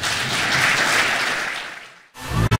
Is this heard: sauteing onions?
no